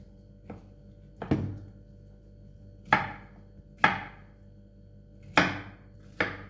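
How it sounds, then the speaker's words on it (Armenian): Knife chopping zucchini on a board, six distinct sharp thunks at irregular intervals, fairly close and clear over a low steady hum, no voices. "դդմիկը կտրատում ենք"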